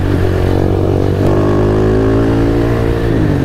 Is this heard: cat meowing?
no